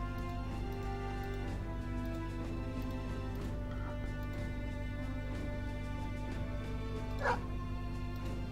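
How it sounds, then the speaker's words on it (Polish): A dog barks in the Battle Brothers video game, several short yips and barks over a steady droning background of game music and ambience. "Weźmy tego psa."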